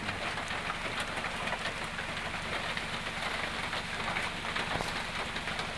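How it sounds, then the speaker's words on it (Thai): Steady storm rain falls continuously on a hard surface at a work site, a dense, even patter with occasional louder drops and a low hum underneath. "ฝนตก"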